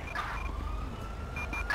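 Ambulance siren in the police game GTA5 (LSPDFR mod), a steady, fairly faint wail sustained over steady low background rumble, with no talk.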